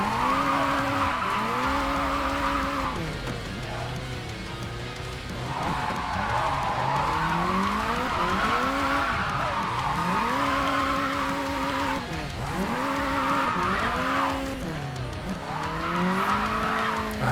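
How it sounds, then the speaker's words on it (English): A car holds a long drift in a video game, tires squealing in sustained skids as the engine whines up and down in repeated sweeps, loud and close throughout. "That is one long drift."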